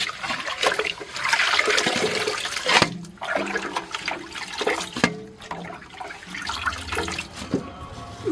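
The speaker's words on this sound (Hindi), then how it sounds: "तो सारा साग और कचरी को ना बढ़िया से 4-5 पानी धो देंगे डूबते हुए पानी में" Saag greens and kachri are washed by hand in a deep basin of water, several changes of water to clear the soil, giving continuous sloshing, splashing and pouring with intermittent splashes and drips nearby.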